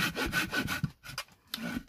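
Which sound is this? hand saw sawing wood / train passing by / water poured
hand saw sawing wood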